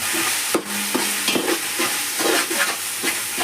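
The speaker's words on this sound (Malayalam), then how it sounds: "നല്ല ഉള്ളിയൊക്കെ വാടിതാ മഞ്ഞപ്പൊടി മല്ലിപ്പൊടി ഒക്കെ ഇട്ട് കൊടുക്കുകയാണ്" Onions frying with turmeric, coriander powder and biryani masala, a steady close sizzle broken by several scraping stirs of a spoon against the pan.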